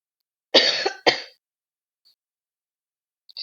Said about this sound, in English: Just being sick of this cough is like the itchy one.